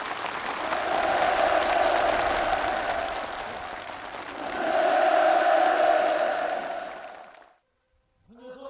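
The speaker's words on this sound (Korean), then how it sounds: "참가자들의 열렬한 박수갈채 속에 살림집 이용 허가증이 전달됐습니다" Ceremony participants give enthusiastic applause in dense, sustained clapping that swells twice, then fades and stops, with faint crowd noise returning at the end.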